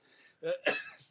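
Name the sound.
sneeze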